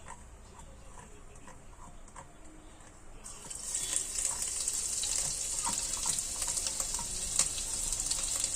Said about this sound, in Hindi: तेल थोड़ा गरम हो जाएगा तब हम इसमें डालेंगे अदरक लहसुन।